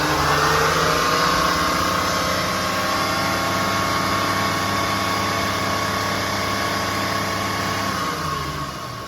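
A 1999 Acura TL engine revving up under added gas: a loud, close, steady mechanical drone with rising harmonic tones, holding high for several seconds before easing slightly at the end.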